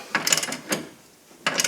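A ratchet wrench clicks in quick bursts while tightening rear subframe control arm bolts on a 2000 Ford Focus, with two rapid runs of close, sharp clicks separated by a short pause and a brief stroke between them.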